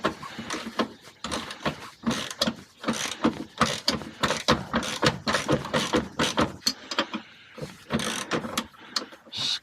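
Wrenches ratchet and clank in cramped quarters under a 2002 Camaro during a UMI subframe connector install, a rapid run of close metallic clicks and knocks in uneven bursts.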